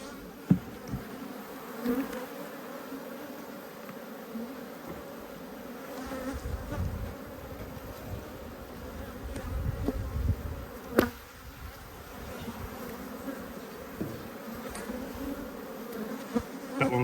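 Honeybees swarm around a backyard hive, giving a continuous, close, droning buzz with individual bees passing near, and a few faint knocks and clicks come through the humming.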